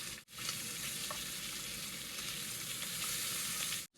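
Bacon sizzles and crackles steadily in a pan inside a small log cabin, a loud continuous frying hiss with brief pops, cutting out abruptly near the start and end.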